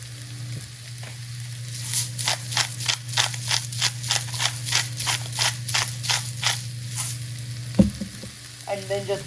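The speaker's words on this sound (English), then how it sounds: "And then just give it a good stir." Herb aioli with garlic powder, salt and pepper is stirred briskly in a bowl, giving a run of about fifteen rhythmic scraping strokes, close and alone over a low steady hum.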